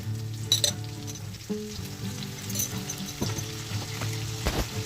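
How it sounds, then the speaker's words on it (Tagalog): Onions and minced garlic sizzle in a hot pan with fully cooked, lightly toasted chicken: a steady, close frying hiss with a few soft stirring clinks and a faint tonal hum beneath. "now that our chicken is fully cooked and a little toasted, now we can add our onions. Our minced garlic."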